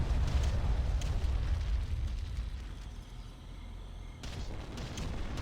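Continuous rumbling artillery bombardment in the strategy game Ground Control, deep booming blasts layered into a steady roar with a slight dip before swelling again near the end.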